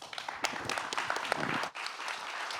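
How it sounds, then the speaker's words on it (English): A summit audience breaks into applause, a busy wash of many hands clapping with a brief dip partway through before it resumes. "Please give them a round of applause"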